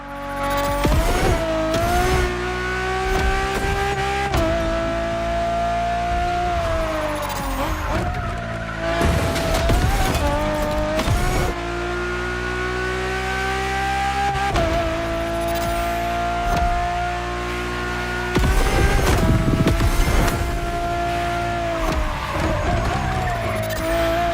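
A Ferrari road-legal Formula One-style supercar in The Crew Motorfest, with a loud, high-revving engine that climbs and drops through gear changes over about 24 seconds, broken by bursts of tire noise.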